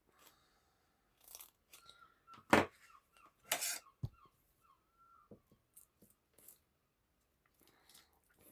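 Scrap foam pad material being cut up in a workshop, a few sharp crunching snips and tearing bursts spaced irregularly, close and fairly quiet with small handling noises between.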